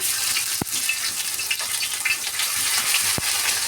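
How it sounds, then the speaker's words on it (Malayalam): Ginger hitting hot oil in a pan for a Kerala fish curry, a steady close crackling sizzle with a few sharp clicks of a spoon against the pan, no talking. "ഇപ്പം എണ്ണ ചൂടായിട്ടുള്ള ഞാൻ ഇതിനകത്തോട്ട് ഇഞ്ചി"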